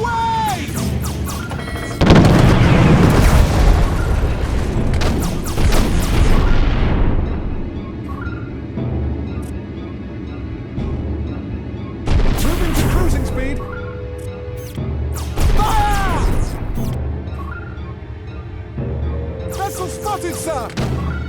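Torpedo launches and explosions in The Battle at Procyon, a space battle video game: repeated heavy booms and rumbling blasts in bursts, mixed with game voices and crew talk.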